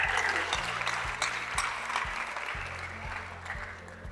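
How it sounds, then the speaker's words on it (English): A conference audience claps for a student, a steady, moderately loud patter of applause with a low hum running underneath. "I'm gonna clap for her now."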